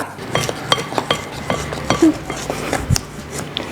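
Dry flour mixture for fried chicken, with baking powder and cornstarch, stirred in a bowl: repeated light clinks and scrapes of a utensil against the bowl in an uneven rhythm, close by.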